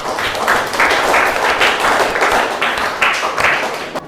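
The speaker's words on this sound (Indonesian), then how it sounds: "kita kasih aplaus dulu untuk rekan-rekan kalian" Students applaud their classmates in a classroom, a steady, loud wash of many hands clapping for about four seconds before it stops abruptly.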